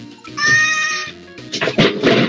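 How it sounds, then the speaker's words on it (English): A cat gives one loud, drawn-out meow, followed by a burst of clattering, noisy sounds. "It's my cat, everybody."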